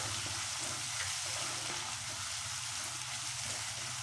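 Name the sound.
Indian gooseberries (amla) sautéing in oil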